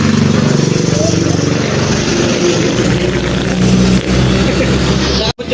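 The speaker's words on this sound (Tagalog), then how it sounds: "Sobrang traffic pag gabi magbiyahe" Dense road traffic at night in Arayat, Pampanga, heard from a TVX 150 motorcycle: a steady, loud wash of engines and wind rumble throughout, with voices talking over it and a brief dropout near the end.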